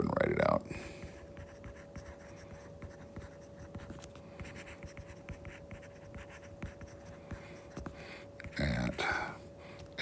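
Pen or pencil scratching steadily across paper while a math problem is written out, a continuous close scratchy texture with a faint steady hum underneath and brief louder handling noises near the start and end.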